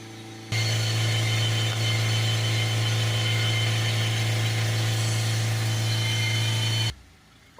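Ford Transit MK7 2.2 diesel engine held at full revs with a steady, loud, even drone close by, running alone for several seconds before cutting away.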